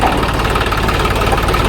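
Steady, loud idling of a nearby John Deere tractor engine, a rough low rumble with a faint knocking pulse, with no break across the short stretch.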